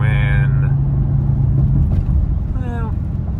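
A pickup truck cruising at about 70 mph gives a steady, loud low road-and-engine drone throughout, with voices talking over it.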